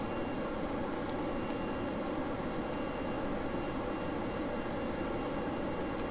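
Airplane engine in the video game Kerbal Space Program, a steady, unbroken roaring drone with a broad hiss that holds an even level throughout.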